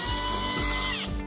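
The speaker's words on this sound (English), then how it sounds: "So right here, I'm gonna drill one pilot hole here" A power drill bores a pilot hole into wood while shelves are being mounted, whirring loudly and steadily close by with brief pulses in motor speed, and no talk.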